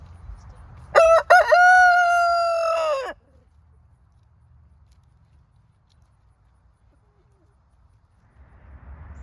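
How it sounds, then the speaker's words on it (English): A rooster crows once, loud and close, a drawn-out cock-a-doodle-doo lasting about two seconds, followed by quiet outdoor stillness on a sunny farm. "Got some chickens out enjoying the sun, doing a little sunbathing."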